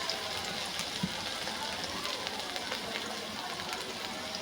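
Spice paste of ground garlic, chili powder, salt and cumin paste sizzles and fries steadily in a pan, a dense continuous crackle with no voices.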